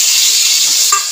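Kharkol leaf and stem paste with green chilli sizzles steadily in a hot pan while being stirred, a loud continuous frying hiss with a faint scrape near the end.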